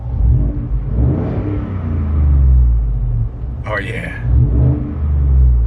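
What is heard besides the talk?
Ford F150 engine revving with budget exhaust mod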